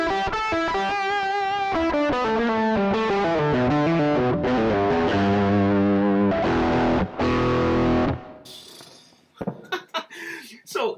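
Heavily distorted electric guitar, played through a Behringer GDI 21 pedal with the distortion turned up, plays chords and riffs loudly for about eight seconds, then cuts out, followed by some breathing and small vocal sounds.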